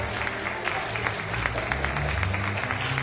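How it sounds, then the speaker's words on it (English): A church congregation claps along during a service, the rhythmic handclaps over a low sustained organ or keyboard chord, with some crowd murmur mixed in. "clap your hands"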